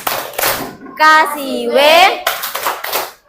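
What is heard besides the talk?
children clapping hands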